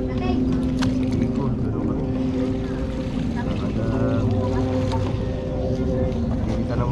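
A fishing boat's engine runs steadily and loudly nearby while the net is hauled in on the water, with wind and voices talking over it.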